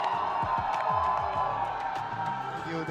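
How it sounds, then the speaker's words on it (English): Crowd at a Riot Games esports event cheering and whooping for Global Esports, a loud sustained roar with scattered claps and shouts filling the whole stretch. "look how loud the crowd is cheering for Global Esports!"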